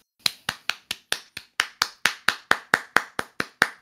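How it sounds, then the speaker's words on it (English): Sixteen or so single hand claps ring out in a steady, evenly spaced rhythm, each one a sharp, close crack with a brief decay and clear silence between. "Why am I clapping like this?"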